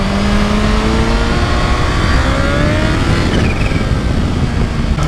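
A Kawasaki Ninja H2 motorcycle accelerates hard with a loud, close engine whose pitch climbs in long rising sweeps, shifting partway through, with no voices.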